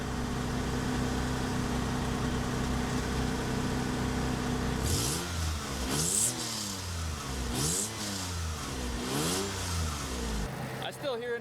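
A car engine idles, then revs up in three or four rising and falling pulls on a car with an exhaust flange leak, loud and close, with a raspy exhaust note.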